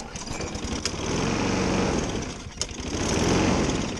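A Craftsman 6.75 HP self-propelled walk-behind mower engine, recently freed from a seized engine brake, fires up and runs steadily with a loud, even drone close by, rising in strength after the first second with a couple of sharp clicks.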